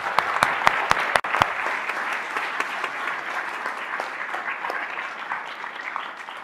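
A few sharp, close claps open a round of applause for award winners at a university employee recognition ceremony, then many hands join in a steady, moderately loud crowd clapping that carries on evenly.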